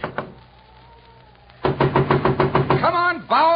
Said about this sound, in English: Come on, Bauer, open up the door.